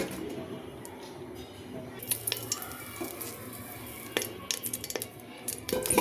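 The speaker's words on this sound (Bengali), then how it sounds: "তোমার চিকেনটা এখন সটে করব কর্ন স্যুপের জন্য।" Chicken sautéing in three tablespoons of oil in a pot for corn soup, with a soft steady hiss under scattered metal utensil clinks and scrapes against the pan that grow busier toward the end.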